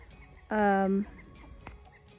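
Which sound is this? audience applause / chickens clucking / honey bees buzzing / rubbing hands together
chickens clucking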